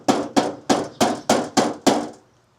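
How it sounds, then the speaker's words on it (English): Seven evenly spaced hammer taps on metal, each a sharp close strike with a short ringing decay, the hammer allowed to fall under its own weight, followed by quiet. "you're kind of just letting the hammer fall down"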